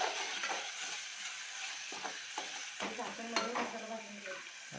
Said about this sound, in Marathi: मसाला भाजून घ्यायचा व्यवस्थित.